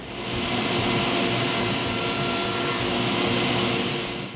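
Saw cutting through a plywood panel for a dust chute on a downdraft sanding table, a loud steady whine with a brief sharper rise midway, close up and without talk.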